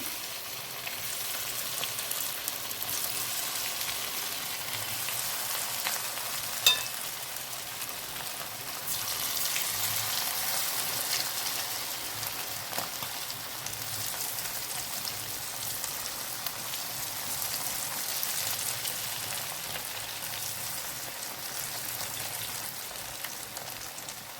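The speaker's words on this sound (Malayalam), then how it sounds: "ഇനി പുരട്ടി വെച്ചിരിക്കുന്ന ബീഫ് ചേർത്ത് കൊടുക്കാം" Marinated beef frying in hot oil with curry leaves gives a steady, dense sizzle and crackle with no break through the stretch, close and fairly loud, with a single sharp pop near the start.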